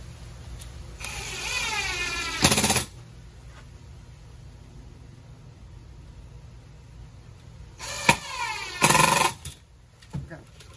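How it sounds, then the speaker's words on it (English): An impact driver sets screws into wood in two short bursts, a hard rattling whir early on and a longer pair of bursts near the end, with quiet workshop background in between. "these impact drivers, you need to get one because that's the only way to put screws and everything in."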